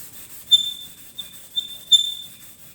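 A Kettlewell chromatic harmonica part being sanded flat by hand gives a thin, high squeal in a few brief bursts over a soft, steady rubbing sound, close and fairly quiet.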